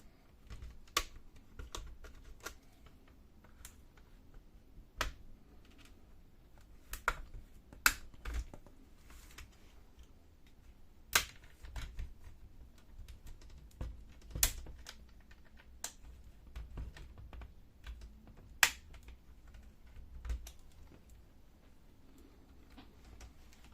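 Plastic pry tool working around the case of an HP 15-D050EV laptop, producing scattered sharp clicks and snaps as clips release, irregularly spaced over a quiet background.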